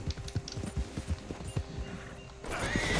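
Horse hooves clip-clop in Red Dead Redemption 2, a quick uneven run of close hoof strikes over about two seconds before a brief whinny and rising game ambience.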